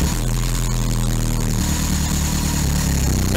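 Modified Škoda Fabia 1.4 engine fitted in a Škoda 120, cranking and catching, then running with a loud, rough, steady drone close by.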